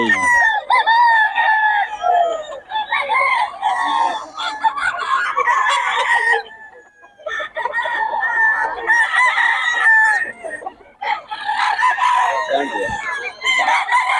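Roosters at a market in Bocaue crow loudly and close by, with long drawn-out calls overlapping one another and clucking mixed in. Faint voices are heard in the background.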